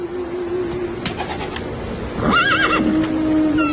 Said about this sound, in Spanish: El caballo, animal fiero, enérgico e indomable, permanecía allí, ante mí, dócil y calmado como un corderito